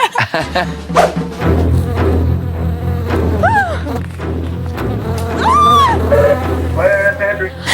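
Insect-like buzzing whines rise and fall over a steady music bed, close and fairly loud, with voices in the background.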